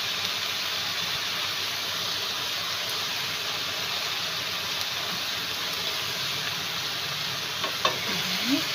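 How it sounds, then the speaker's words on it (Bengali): Spice paste with turmeric is stir-fried in a pan, giving a continuous, even sizzle and hiss with occasional faint scraping clinks near the end. "মশলাটা কষাইয়ে ওর মধ্যে একটু হলুদ দিয়ে দেবো।"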